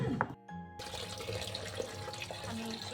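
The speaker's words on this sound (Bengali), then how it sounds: "আমি চিকেনগুলোকে ভালো করে ধুয়ে নেব।" Raw chicken washed under a running kitchen tap, a continuous splashing water flow with brief clatter, close by and steady, after a short pause near the start.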